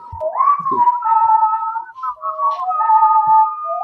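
A person whistles a wandering, melodic tune alone, steady and fairly loud, with a few soft knocks and rustles underneath.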